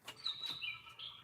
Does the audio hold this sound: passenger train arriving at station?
no